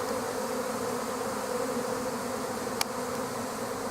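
A swarm of bees fills the air outdoors with a steady, dense buzzing drone that holds evenly throughout, close and fairly loud, with one sharp brief tick near the end.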